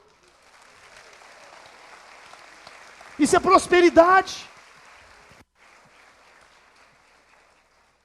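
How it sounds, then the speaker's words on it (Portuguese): A church congregation at a communion service applauds faintly and steadily in the background, while a voice speaks briefly over the clapping before it fades out. "Você pode aplaudir o Senhor."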